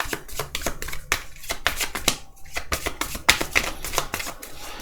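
Tarot cards shuffled by hand in a close, crisp series of rapid riffling bursts with brief pauses between them, no talking.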